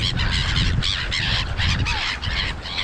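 Farm birds honk and squawk in a dense, continuous chorus at close range during a windy morning feeding.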